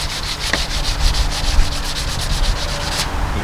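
Coarse, rhythmic rasping of 180 grit sandpaper scuffing a plastic pool deck drain, close and loud, with quick repeated back-and-forth strokes and no talking.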